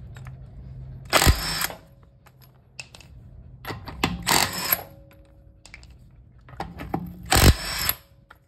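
Bauer 20V cordless 1/2 inch impact wrench tightening fasteners: three loud, short bursts of rattling hammering, each about half a second long, separated by quiet pauses with faint handling clicks.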